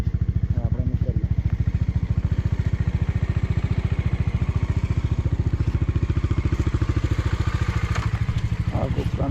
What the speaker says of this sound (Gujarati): બાઇક દોડાવી દઈએ